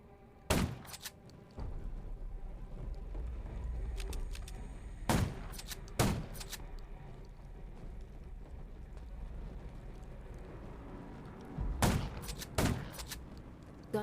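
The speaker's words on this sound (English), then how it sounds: "Gunshots will attract more zombies." Gunshots in the zombie survival video game Undawn: several sharp, loud single shots and short bursts spread across a quiet, rumbling background, with no one talking.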